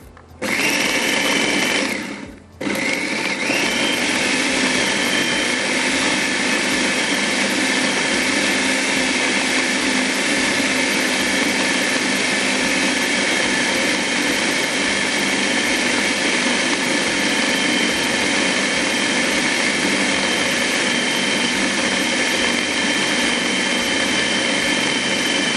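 An electric food chopper grinds ingredients for a mushroom sauce with a loud, steady motor whine. It cuts out briefly near the start and then runs without a break to the end, with no talking.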